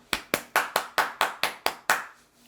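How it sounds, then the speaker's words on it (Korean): Eight sharp, evenly spaced hand claps ring out close and clear in a steady rhythm, with no talking over them. "그에게 다시 한번 큰 박수를 보냅니다"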